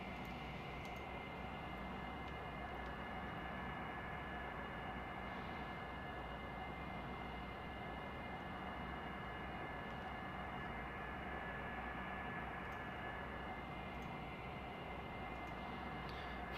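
A Delta McDonnell Douglas MD-88 in a flight simulator game takes off from runway 27 right, a steady, even jet engine roar holding at one level throughout, with no voices.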